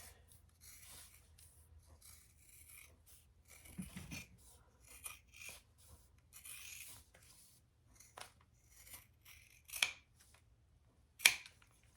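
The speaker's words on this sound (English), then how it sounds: "I love those scissors." Scissors snip through fabric while sewing a family travel organizer, giving a sparse series of soft cuts and rustles with a couple of sharper snips near the end, close and quiet.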